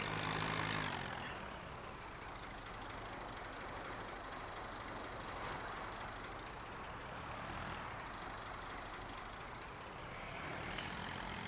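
A tractor engine in a farming video game runs at a steady, unchanging drone for the whole stretch, fairly low in level, with no speech over it.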